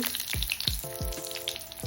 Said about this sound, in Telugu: కడాయి పెట్టి ఆయిల్ వేసి పోపు గింజలు